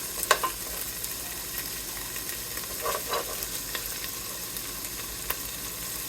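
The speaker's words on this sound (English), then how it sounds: "So I'm going to let these fry up just a little bit." Chickpeas and ingredients fry in a hot pot for a quinoa veggie soup, giving a steady low sizzle with a few sharp scraping clicks of stirring near the start and midway, fairly quiet and close.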